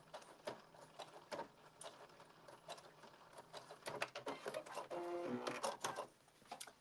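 A sewing machine back stitches a blazer seam at 5/8 inch, a faint run of quick mechanical clicks and a short whirring burst near the end, fairly quiet and close.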